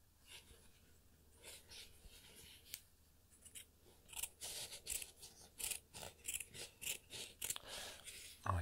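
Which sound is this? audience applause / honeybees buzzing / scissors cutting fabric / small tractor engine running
scissors cutting fabric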